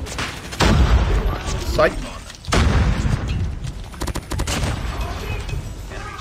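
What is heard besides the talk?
gunfire from a big pistol in the video game COD Mobile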